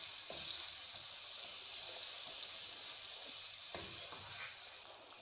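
Boiled spinach with meat sizzles steadily in a hot pan, a continuous close frying hiss with a few soft stirring scrapes and no talk.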